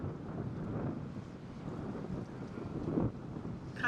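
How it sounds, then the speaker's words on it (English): Strong sustained wind of about 24 knots buffets a cruising boat at anchor off Mexico, a steady rough rush of air with low gusty rumble, moderately loud and unbroken, with no talk. "The winds are sustained about 24 or so knots."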